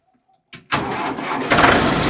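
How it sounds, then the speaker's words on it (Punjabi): A tractor engine is self-started after a short silence: a brief starter whir, then the engine catches and settles into a loud, close, rough running rumble that grows slightly louder. "ਬਈ ਇਹਨੂੰ ਸਟਾਰਟ ਕਰਕੇ ਦਿਖਾ ਇਹਦੀ ਸੈਲਫ ਮਾਰਕ ਕੇ ਦਿਖਾਈ ਟਰੈਕਟਰ ਦੀ"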